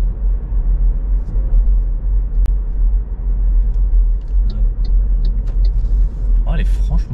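Car driving through Paris city traffic, 200 horsepower, with a steady low engine and road rumble throughout and faint passing traffic noise, while someone talks over it.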